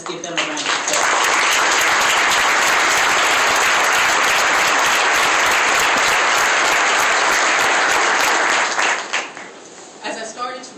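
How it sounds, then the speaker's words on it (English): Loud, dense applause from a civic audience at a 2012 State of the City address, honoring the mayor's cabinet members and executive team, sustained for about eight seconds before tapering off as a voice resumes. "ladies and gentlemen, let's give them a round of applause."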